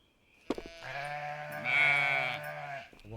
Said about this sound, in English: How do we hear that sheep actually?